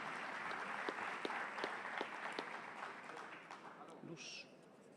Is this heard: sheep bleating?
no